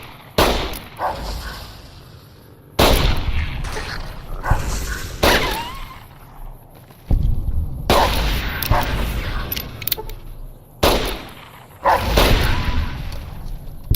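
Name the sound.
gunshots from the video game Fallout New Vegas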